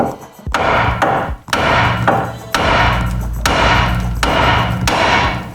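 A hammer strikes a Ford Focus Mk1 strut repeatedly to separate it, about seven loud, close metallic whacks in an uneven rhythm, each ringing briefly, with no talk over them.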